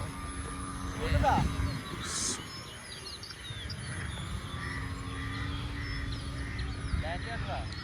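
A gold radio-controlled model plane buzzes overhead and comes in to land, its thin motor whine steady in the distance while people talk nearby and birds chirp faintly.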